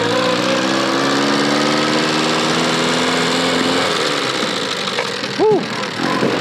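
A cold 44 cubic inch, 700 cc four-cylinder engine in a homemade go-kart runs loud and steady after starting, its drone shifting and easing near the end, with a brief high whine just before it finishes.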